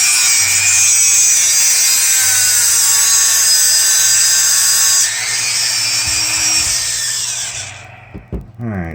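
A loud, high-pitched power tool whines steadily as it cuts a metal 1/24 scale slot car chassis, its pitch dropping as it winds down, followed by a few clanks.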